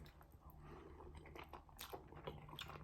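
A man chews food close to the mic, with soft, irregular crunching and wet mastication sounds under a low steady background hum, no talking.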